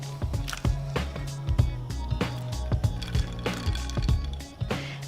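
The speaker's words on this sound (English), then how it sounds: "Put into the ice water, stop the cooking." Blanched green beans dropped into a bowl of ice water, close, wet splashing and sloshing with soft clinks of ice and utensils in a kitchen.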